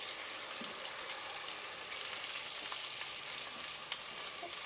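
Green string beans fry in a pan with a constant dense sizzle, close and fairly quiet, with faint crackles scattered throughout.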